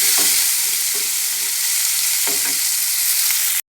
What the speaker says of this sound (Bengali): ফুলকপিটা একটুখানি ভাজা করে তারপরে আর সবজিগুলো দেবো।